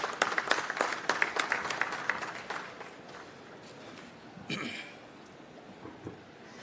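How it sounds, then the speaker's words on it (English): An audience at a jewellery trade show inauguration ceremony in Mumbai applauding to welcome a speaker, starting as a fairly faint, distant patter of claps that fades out, followed by scattered coughs and noise. "Can we welcome him with the usual applause?"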